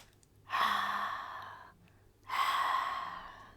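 A voice imitates loud, struggling breaths, two long rasping heaves one after another, each swelling quickly and trailing off, close and fairly loud against a quiet background.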